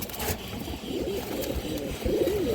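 Pigeons offered for sale coo in a few soft, rolling calls over a dense, noisy background, close by and moderately loud.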